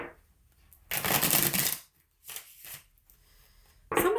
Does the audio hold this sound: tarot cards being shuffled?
yes